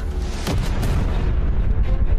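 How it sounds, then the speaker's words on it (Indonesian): A weapons depot at the edge of a city explodes with a loud, sustained, rumbling boom. A sharper burst comes early on, and the heavy low roar continues throughout. "Itu suara gudang senjatamu di pinggir kota meledak."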